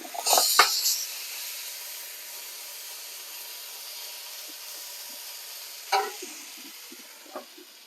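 Stir fry ingredients hit smoking oil in a hot pan with a loud burst of sizzling that settles into a steady hiss, with a few later flare-ups and stirring clanks.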